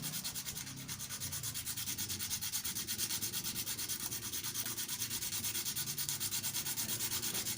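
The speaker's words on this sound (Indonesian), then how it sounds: "kita rapikan sedikit menggunakan amplas teman-teman" Steady, rhythmic hand sanding with sandpaper on a handmade deer call, brisk back-and-forth scratchy strokes repeating close by without a break.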